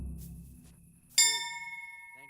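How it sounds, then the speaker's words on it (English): A bell struck once in the medieval video game Kingdom Come: Deliverance, a sudden clear metallic ding with a long ringing, slowly fading tail after a quiet, low rumble. "Oh, here we go. Found the bell. We got the bell."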